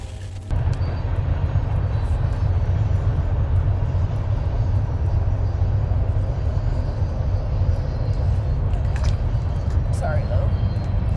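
A train passes near a house and gives a loud, steady low rumble that fills the whole stretch. It starts suddenly and continues without break, with faint sounds from nearby on top.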